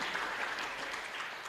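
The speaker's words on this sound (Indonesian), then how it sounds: "Tepuk tangan untuk kemuliaan daripada Tuhan." Steady applause from a church congregation during a Sunday Pentecostal worship service, a dense, even patter of many hands clapping at a moderate distance for a brief moment.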